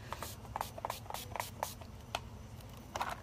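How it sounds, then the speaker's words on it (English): Short hissing bursts of finishing spray come from an aerosol can, spritzed several times in quick succession close up, with light rubbing and handling noises between the sprays. "I'm going to put on my 10 Years Younger finishing spray"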